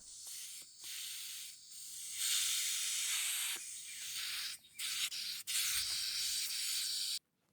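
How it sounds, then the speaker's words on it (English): Air hissing steadily out of a riding mower tire through a valve stem tool, a loud broadband rush broken by brief pauses and cutoffs, with no talking. "One end threads onto the valve stem to let air out of the tire"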